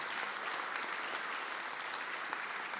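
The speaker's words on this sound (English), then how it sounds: "let's give a big applause for all the guests who are here" An audience at a speech by Professor Muhammad Yunus claps steadily, a dense patter of many hands, moderately loud and sustained for a few seconds.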